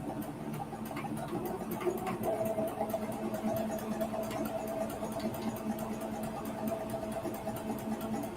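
A domestic sewing machine embroidering runs with a steady, continuous mechanical whir and rapid needle clatter, moderately loud and close, without any talking.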